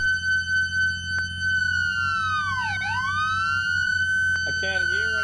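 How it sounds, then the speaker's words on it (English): Loud, close police siren from ARMA 3, first pulsing in short yelps, then settling into a long rising and falling wail, with a voice speaking over the top. "What are you turning my sirens on for?"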